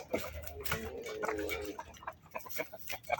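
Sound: chickens and roosters clucking

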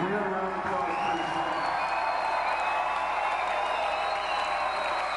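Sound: concert audience applause

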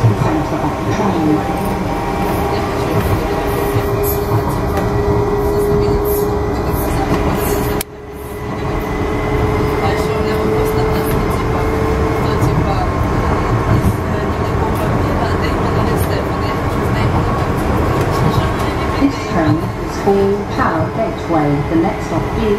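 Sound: DLR train riding from Beckton to Tower Gateway

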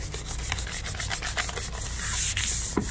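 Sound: sanding a surface with very fine grit

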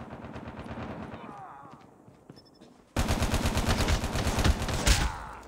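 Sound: gunfire in a video game

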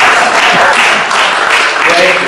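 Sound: audience applause

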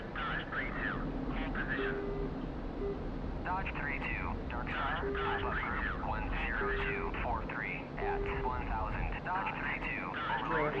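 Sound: MiG-29S jet taking off at full throttle, DCS World video game

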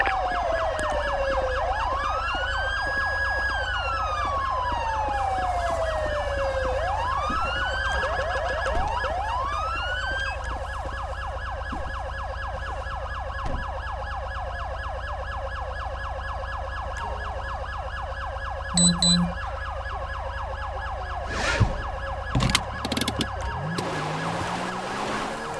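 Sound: ambulance siren in a video game (GTA)

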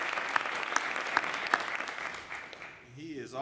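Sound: audience applause at iftar dinner

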